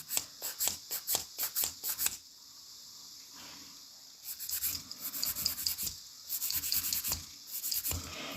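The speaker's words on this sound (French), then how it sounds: "je veux vous montrer comment on lime" Rhythmic rasping strokes of a 100/180 grit nail file, quick regular back-and-forth bursts in two runs separated by a quieter pause, close up.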